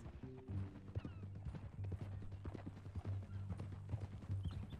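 Horse hooves clip-clop steadily at a walking pace in Red Dead Redemption 2, the even rhythm running throughout with a low droning tone underneath and a faint whinny hinted at.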